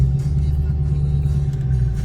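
Car traffic around the DC area, heard from inside a vehicle as a continuous low road rumble and engine drone, steady and fairly loud, with no one talking.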